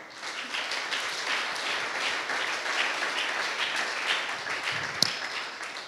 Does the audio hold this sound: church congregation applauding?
yes